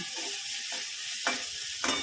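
Green chillies fry in oil for chowmein, giving a close, continuous sizzling hiss with a few brief swells where the pan is stirred.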